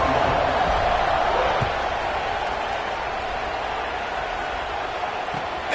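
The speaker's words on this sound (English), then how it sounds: "this crowd is buzzing after that last score" A football stadium crowd roars steadily after a score at a Penn State versus Washington game, a dense, loud and continuous wash of noise with no clear breaks.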